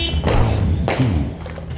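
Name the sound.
Fourth of July fireworks going off outside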